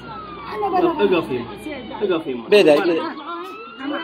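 An ambulance siren wails in the background with steady rising tones, partly masked by agitated, overlapping voices of people talking and shouting nearby at a rescue scene.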